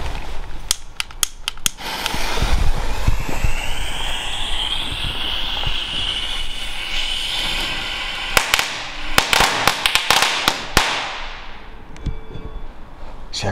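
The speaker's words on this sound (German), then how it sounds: "Jetzt machen wir die Big Crackling Cracker." Big Crackling Cracker firecrackers from a 2023 fireworks advent calendar set off outdoors: sharp bangs at the start, then a long dense stretch of crackling, then more rapid loud pops before a fading tail.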